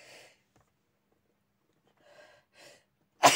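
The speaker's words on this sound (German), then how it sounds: "Ich musste niesen." One person sneezes: a few soft breaths and intakes, then a sudden loud, sharp burst at the very end.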